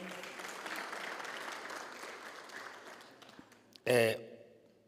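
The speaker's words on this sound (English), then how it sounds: "Once more, can we give him a round of applause?" A round of applause from the audience at a business breakfast event, moderate crowd clapping that gradually thins out, ending with a sudden loud burst of a voice on a microphone.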